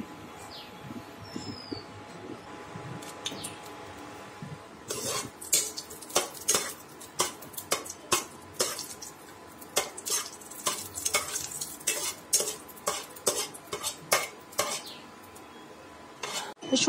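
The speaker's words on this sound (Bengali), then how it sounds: "শুকনো লঙ্কাটা আমার তেলে ভাজা হয়ে গেছে" Dried red chilies sizzle in hot mustard oil in a pan on low flame, with a steady frying hiss beneath repeated sharp scrapes and clinks of a utensil stirring against the pan, close and fairly loud, with no talking.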